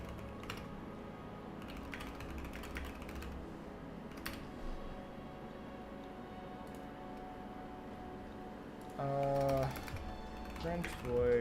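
Keys clatter on a Keychron V3 computer keyboard in scattered clusters of soft clicks over a steady low hum, ending in a denser flurry of keystrokes.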